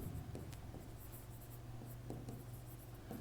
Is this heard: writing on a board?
yes